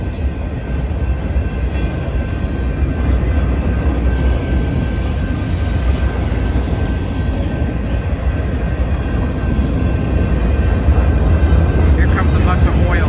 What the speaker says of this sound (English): Here comes a bunch of oil tankers.